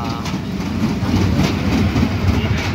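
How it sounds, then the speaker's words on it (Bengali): Train rolling past at a crowded Vidyasagar fair, a loud close rumble with rhythmic clickety-clack wheel beats running throughout. "কি সুন্দর ট্রেন কিন্তু বেরিয়ে যাচ্ছে"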